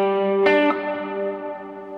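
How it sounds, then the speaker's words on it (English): Electric guitar through a big reverb pedal in a player's rig: a sustained chord rings out, then a fresh strum lands and its tones wash into a long, slowly fading reverberant tail, with no talking. "this big old reverb"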